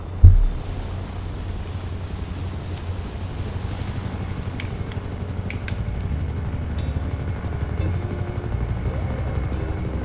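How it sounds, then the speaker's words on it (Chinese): A helicopter flies in the video game GTA 5, a continuous droning rotor and engine hum that stays steady and fairly loud throughout, with a brief thump at the start. "OK， 我们就开直升机过去。"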